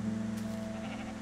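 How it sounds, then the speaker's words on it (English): Minecraft sheep letting out a single short, nasal bleat, clear and close over a steady low background hum. "Sheep? What do you want?"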